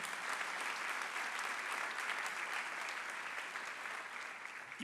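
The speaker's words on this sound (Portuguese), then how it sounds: "Aplauda o nome de Jesus, palavra viva." A church congregation at a Sunday service applauds, many hands clapping in a continuous, even wash that eases slightly near the end, heard at a distance and fairly faint.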